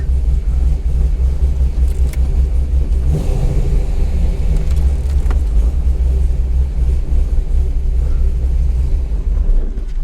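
A C5 Chevrolet Corvette Z06 engine rumbles steadily and loudly up close, a constant deep drone with a brief louder swell partway through and no voices.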